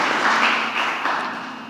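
An audience claps steadily through a dense, even patter of many hands at a book presentation held in a state congress hall, with the applause easing slightly toward the end and no voices over it.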